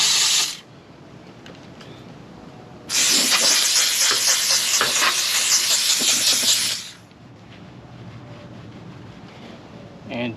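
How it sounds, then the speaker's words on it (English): Steam cleaner hissing over a car engine bay: a short burst, a pause, then a loud sustained blast of about four seconds that cuts off, with clicks and low handling noise between. "Go ahead and use the steamer."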